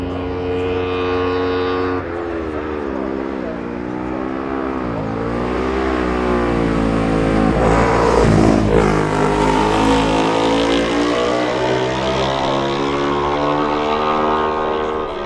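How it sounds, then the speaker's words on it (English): A Kawasaki racing motorcycle in a Manx Grand Prix newcomers road race at Ballacraine approaches and passes, its engine note rising and falling through gear changes and swelling loud near the middle before fading away. "A gap of almost 30 seconds before we see number 32, Ray Mahoney on his Kawasaki"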